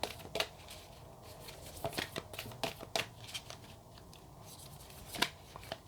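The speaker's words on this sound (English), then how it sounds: "If I can actually shuffle the deck today." A deck of cards being shuffled close up, with a series of soft riffling bursts and crisp flicks at an uneven rhythm, fairly quiet in a still room.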